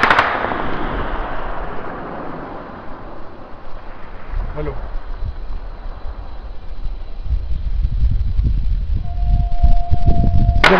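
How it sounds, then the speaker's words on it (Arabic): Gunfire aimed at houses at night in Zabadani, Syria, in June 2012: a sharp, loud crack at the start, then scattered distant reports over a windy outdoor background with a murmur of voices. "اطلاق نار على المدنيين العزال"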